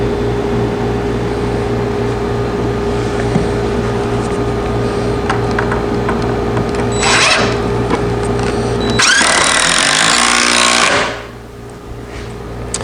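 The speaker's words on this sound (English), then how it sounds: "more of these 3-inch lag screws that should pull it together and hold it together." Power drill driving 3-inch lag screws into a wooden gate, a loud steady motor whine running throughout with a harsher, louder burst near the end as the screw bites into the wood.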